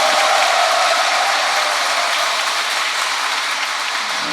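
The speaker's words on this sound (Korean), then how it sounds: "다시 한번 박수!" A church congregation at a Catholic Mass during a Holy Spirit seminar bursts into loud, dense applause, a continuous wash of clapping that holds steady throughout.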